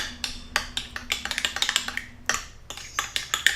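A utensil clinks and scrapes quickly against a bowl while mayonnaise and mustard are mixed, giving a close, irregular run of sharp taps with a brief pause midway.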